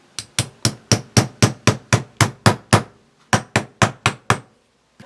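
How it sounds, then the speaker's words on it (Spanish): A hammer taps steel laminations into a transformer core for a 12V transformer: a quick, even run of about eighteen sharp metallic knocks with a short pause partway, loud and close, with no talk. "con un martillo lo vamos a golpear hasta que ingrese a su posición."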